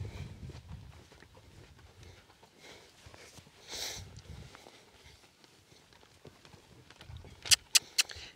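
Soft, uneven hoof thuds of a horse walking on soft ground, with a snort midway and a few sharp metallic clinks near the end.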